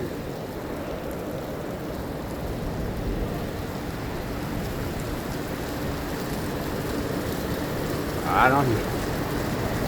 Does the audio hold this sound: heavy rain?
yes